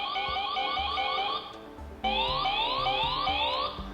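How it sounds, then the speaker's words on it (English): An electronic e-bike alarm loops rising, chirping tones in a steady repeating pattern, loud and close, briefly breaking off near the middle before resuming. "And then we also have our specific alarms."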